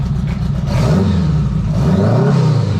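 A 1976 Honda Goldwing motorcycle engine with a 4-into-1 exhaust and a fault that stops it idling runs loud and close, its pitch rising and falling as it is revved.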